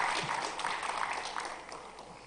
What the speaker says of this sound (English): Can we all give a huge round of applause as we welcome her on the stage